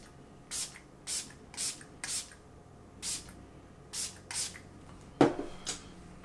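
Setting spray mists onto a face in a series of short, soft hissing bursts, about eight quick pumps spaced unevenly, faint and close with no talking.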